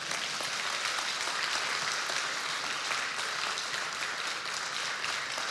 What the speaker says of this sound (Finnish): Antakaa vähän aplodit.